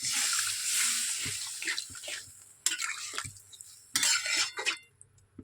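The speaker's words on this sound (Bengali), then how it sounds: "অল্প করে জল দেবো" Water poured into a pan of soybean curry on the stove, splashing and trickling in a few separate bursts with quiet gaps between, nearby and alone.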